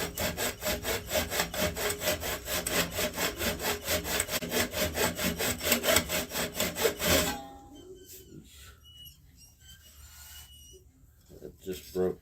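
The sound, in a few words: lathe tool cutting canarywood vase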